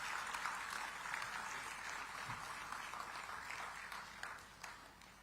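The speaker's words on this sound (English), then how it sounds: "Let's greet him with an energetic round of applause." Audience applause greeting a guest MP at a digital technology summit in Visakhapatnam, a faint, even wash of clapping that tapers slightly toward the end.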